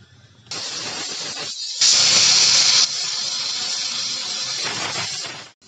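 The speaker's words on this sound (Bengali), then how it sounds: "তিনটা সিটি হয়ে গেছে আমি এখন চুলাটা বন্ধ করে দেব" A pressure cooker of moong dal vents steam in a loud, sustained hiss that swells into a brighter, sharper whistle for about a second, then carries on hissing before cutting off.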